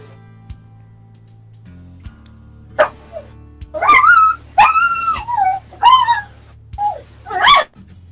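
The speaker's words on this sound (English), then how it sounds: "We have a wild dog attack." Wild dogs attack in a video game, giving a few quiet early yips, then a run of whimpering barks and howl-like yelps from mid-distance over a low steady background hum.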